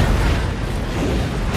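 An explosion in an action film: a dense, loud roar of rumbling noise fills the whole moment, steady and heavy without any clear separate bangs.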